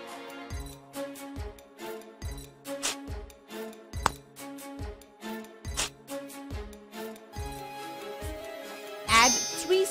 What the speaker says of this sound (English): Add 2 spoons sugar in second glass.